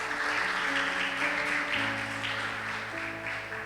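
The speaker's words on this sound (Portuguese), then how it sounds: "Queria que você desse uma salva de palmas para Deus" Congregation applauding during a church service, a continuous wash of clapping over sustained musical tones underneath, steady and fairly even throughout.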